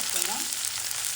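Mint leaves fry in a small amount of oil with a continuous close sizzle and faint crackle, plus a brief soft stirring sweep near the start.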